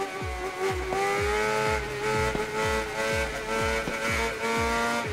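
Carbureted Honda Hornet 600 motorcycle in the racing game Ride 3, its engine revving through rising and falling gear changes with repeated downshift blips, loud, close and continuous, with no voices.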